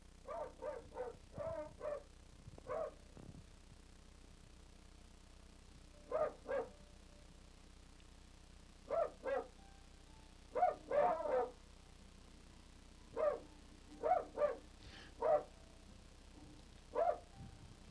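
Hunting dogs holding a Russian wild boar at bay bark in scattered bursts of two or three, some yips mixed in, moderately distant and alone over a quiet background.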